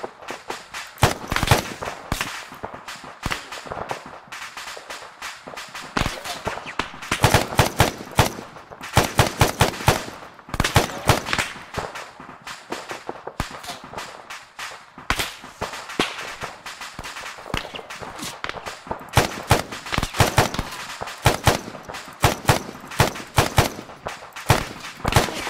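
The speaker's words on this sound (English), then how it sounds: "Gallo's up, getting heavy fire though" Heavy machine gun fire in the military shooter Arma 3, with dense, continuous bursts of rapid cracking shots and overlapping volleys that surge loud and close throughout, leaving almost no gaps.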